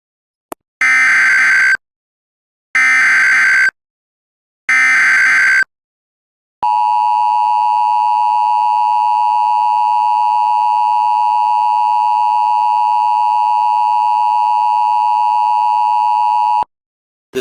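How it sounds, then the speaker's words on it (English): Emergency alert system tones: three short, loud, harsh buzzing bursts with gaps between them, then a long steady high electronic tone lasting about ten seconds, with no voices. "This is the emergency alert system."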